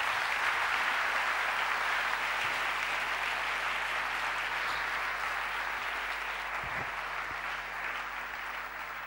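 A church congregation applauds together at a service, a steady, dense wash of clapping filling the room for several seconds and tapering off only slightly near the end.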